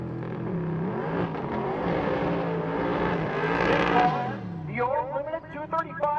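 Twin-turbo Fox Mustang race car with a TKX five-speed Tremor transmission, its engine droning loud and steady close by with harmonics rising and falling as it revs, then rougher, choppier pulses near the end.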